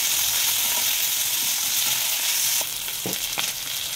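Curry leaves frying in a pan for moong khichdi make a dense, continuous sizzle, with a few stirring scrapes breaking through in the last second or so.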